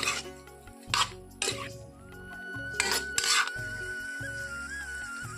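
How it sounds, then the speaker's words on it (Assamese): Elephant apple frying with chili powder in a pan while a spatula stirs it, giving repeated scraping strokes over a low, steady sizzle up close. "আৰু এনেদৰে মই অলপ সময় লৰাই ধুনীয়াকৈ ভাজি ল'ম"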